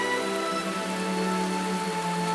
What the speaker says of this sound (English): The deluge may continue off and on for months.